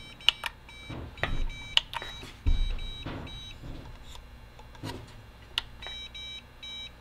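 A Winkeyer CW keyer kit being assembled emits short high-pitched electronic beeps in repeated bursts, faint and close, interspersed with light handling clicks and thumps.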